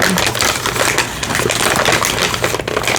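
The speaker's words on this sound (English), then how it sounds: "You may want to turn them down or mute them for ripping open this packaging." Cardboard packaging of an oracle deck being ripped open, loud dense tearing and crackling close up, continuous for the full stretch with no voices.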